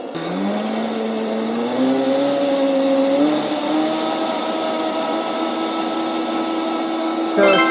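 Hoverhearts electric dirt bike running in mode 1, a steady rising electric motor whine that climbs in pitch and then holds, close and continuous, with a brief knock near the end.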